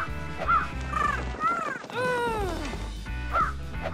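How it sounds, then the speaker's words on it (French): Crows caw in the cartoon-like sound of a Halloween pumpkin-patch scene, repeated harsh calls spread across the clip with a long falling call in the middle, over a background of music. "Les corbeaux veulent manger les citrouilles."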